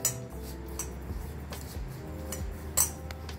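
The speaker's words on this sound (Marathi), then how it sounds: "सगळं आपण मिक्स करूया।" A spoon mixing vada batter with sesame seeds and coriander in a bowl, producing soft, repeated clinks and scrapes against the dish at close range, with a sharper knock near the end and no talk.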